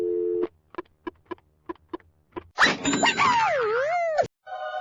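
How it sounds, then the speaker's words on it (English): A telephone line in the You Don't Know Jack video game: a run of short, evenly spaced beeps like a busy signal after dialing, then a burst of cartoonish boinging, warbling sound effects that cuts off abruptly. "What does it sound like when you dial 867-5309?"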